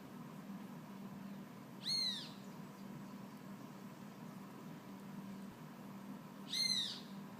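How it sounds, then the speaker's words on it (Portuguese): A bird gives two separate high, sweeping calls a few seconds apart over a steady faint hum in a quiet indoor setting. "tem um passarinho cantando no vídeo"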